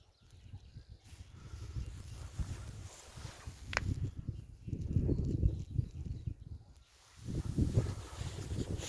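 A draft-breed mare nearby shifts and steps, with soft hoof thuds and shuffling over about nine seconds, no talking.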